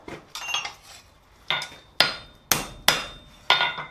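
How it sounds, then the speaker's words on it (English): A hammer gives sharp metallic taps to free a punched plug over the pritchel hole of a blacksmith's anvil, about seven distinct ringing strikes in an uneven rhythm, close and clear. "you then go over the Pritchell hole, give it a quick tap or two to free the plug"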